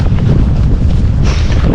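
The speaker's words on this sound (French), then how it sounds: "C'est un grain, vous entendez le vent aussi, ça souffle." Strong squall wind roars and buffets the microphone on a coastal trail at Pointe du Raz, a loud, constant rumbling rush filling the whole stretch.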